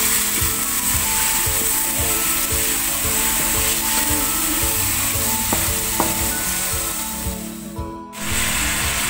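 Chicken pieces sizzling loudly in a hot pot for Filipino ginger chicken soup, a continuous close frying hiss with light stirring scrapes and a brief dip near the end.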